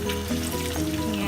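Pork frying in its own rendered fat for dinuguan, a steady, close, dense sizzle that holds level throughout with no talk.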